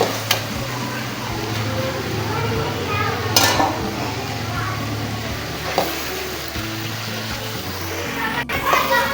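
About a kilo of chicken goes into hot oil in a pot for palak gosht and is stirred, giving a continuous loud sizzle with occasional spoon-against-pot scrapes and clinks.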